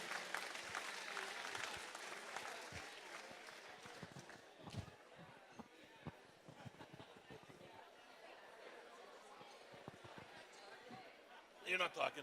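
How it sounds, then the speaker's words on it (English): Diners at a charity auction dinner clap for the hotel staff, moderately distant, sustained applause blending into crowd chatter, with a few sharp louder claps at the end. "How about a nice round of applause for the hardworking Rainbow Country Inn,"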